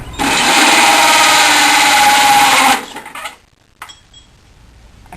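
A hole saw drill whines loudly and steadily for a few seconds while cutting through a gutter, then stops abruptly as the saw loosens, followed by faint clicks and quiet handling noise.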